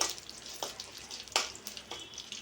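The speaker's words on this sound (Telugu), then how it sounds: "ఇవి కాస్త లైట్ బ్రౌన్ కలర్ రావాలి అంతవరకు ఫ్రై చేసుకోండి" Ingredients fry in hot oil until light brown as part of a festival prasadam dish, with a soft steady sizzle broken by a few sharp crackles and stirring clinks up close.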